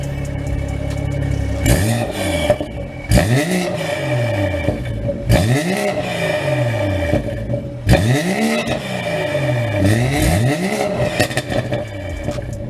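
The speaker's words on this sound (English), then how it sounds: "you might be thinking the BMW sounds like a riot" A BMW high-performance hatchback engine revs repeatedly in strong, rising sweeps, each climb followed by a drop and a pause. Roughly four loud, close bursts come in a regular rhythm with no talk.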